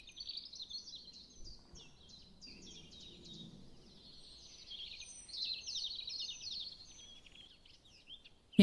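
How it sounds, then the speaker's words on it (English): Birds chirp outdoors, a thin cluster of quick high twitters and tweets that come and go at a moderate distance over a quiet background, with no voices. "Can you hear the birds?"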